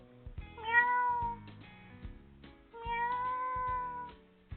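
An animated cartoon cat meows twice in long, drawn-out calls. Each meow is close and clear over low background sound.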